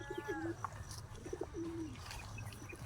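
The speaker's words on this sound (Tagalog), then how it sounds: "na-release na yung ibon at dito siya dumiretso" A racing pigeon, just released after training, coos repeatedly in low rounded phrases, fairly close, with a faint chirp or two in the background.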